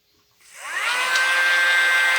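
A Dremel rotary tool spins up from silence into a high, steady whine while drilling into a dinosaur figure, loud and close with nothing else heard.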